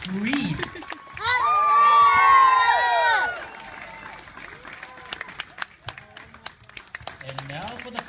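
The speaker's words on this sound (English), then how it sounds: "Everybody give him a loud scream." Crowd at a resort show in Hawaii bursting into loud screams and cheers for a few seconds, then fading into scattered claps and chatter, with talk before and after.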